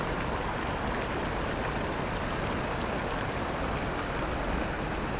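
River rushing below the Uma Anyar waterfall in Bali, a dense, continuous broadband roar of flowing water, steady and close with no break.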